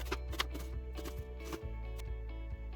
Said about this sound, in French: Je commence par émincer mon oignon